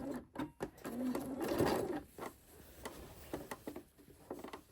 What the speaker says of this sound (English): So I'm going to actually backstitch a little bit because I do have a lot of bulk.